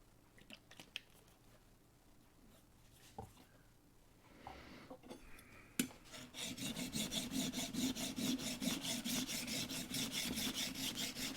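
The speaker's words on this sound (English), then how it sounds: "I'm going to just quickly touch the back of it on the diamond stone" A Stanley No. 5 plane blade scrapes back and forth on a coarse diamond sharpening stone, a steady rhythmic rasp that grows loud and continuous after a few faint, scattered touches.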